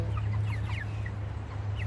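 Free-ranging chickens lying down and eating grass give soft, scattered clucks over a constant low hum, with no voices present.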